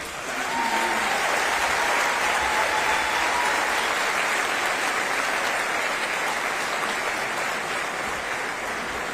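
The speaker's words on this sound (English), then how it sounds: "another round of applause for your mayor, Sylvester Turner" An audience applauds the mayor at Houston's State of the City address, a full, even wash of clapping from a large crowd that carries on throughout.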